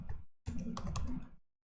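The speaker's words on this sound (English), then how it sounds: "all I have to do is just type in sudo apt install" Rapid keystrokes on a computer keyboard as a Linux install command is typed, a short clattering burst, then a brief pause and a second longer run of clicks, close and clear with no talking.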